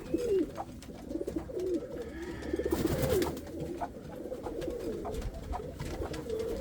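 Pigeons coo repeatedly in soft, throaty phrases in a loft, several birds close by, with a brief burst of rustling or wing flutter midway.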